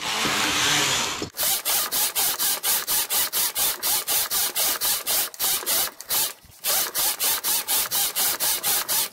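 Knitting machine carriage being run across rows, a rapid, evenly spaced series of clacking ratchet-like passes close by, after a brief burst of hiss at the start.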